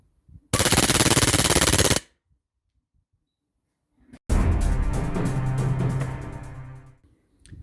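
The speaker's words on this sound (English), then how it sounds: "I'm just going to give this a quick fire on full auto just to show you how good it is" An airsoft gun fires two bursts on full auto, a rapid rattling stream for about a second and a half, then after a pause a longer burst with a mechanical whir that tails off, loud and close.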